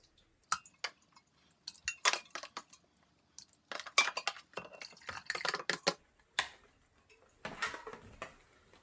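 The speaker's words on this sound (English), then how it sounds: "Now that we've put the newspaper and the water into the blender" Soaked newspaper and water being scooped with a measuring cup and dropped into a blender jar, giving scattered clinks, taps and wet plops, quiet and intermittent.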